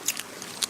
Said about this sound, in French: Il cueille avec soin une feuille d'eucalyptus, la renifle, puis en croque un morceau.